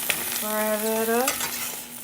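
Butter frying in a pan while homemade pancakes cook, a steady close sizzle through the clip, with a brief tonal squeal or whistle rising over the middle.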